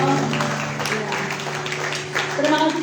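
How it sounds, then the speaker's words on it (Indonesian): Clapping rises from a youth church service congregation, a continuous patter of hands mixed with a steady sustained musical tone and some voices beneath it. "Tepuk tangan untuk beliau."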